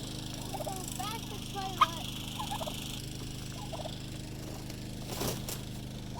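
Turkeys on a farm with bronze females gobbling repeatedly in bursts, moderately close over a steady low engine-like hum, with a brief clack and a faint scrape near the end.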